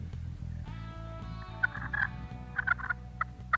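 Wild turkey gobbling in bursts through the second half, several short loud calls over a steady low rumble, heard during a turkey hunt.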